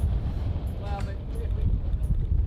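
Strong wind gusting around a sailing vehicle during a speed experiment, a steady rough roar that fills the whole clip while a person talks over it.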